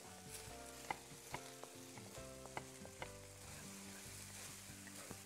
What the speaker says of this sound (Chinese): 放入香菇， 香菇， 先炒着